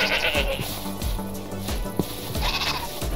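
Sheep in Minecraft bleat several times in quick succession, close and fairly loud, over a busy background of game sounds.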